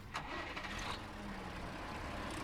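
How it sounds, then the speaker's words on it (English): Old tractor engine starting in Farming Simulator 19, a short cranking burst that catches into a low rough idle, fairly quiet and steady. "Like an old tractor."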